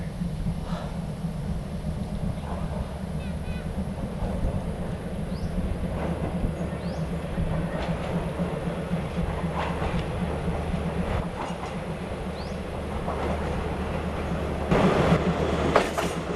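Rail cars rumble and clatter steadily nearby at Khun Tan railway station in Thailand, with occasional metallic clicks and a brief squeal of wheels.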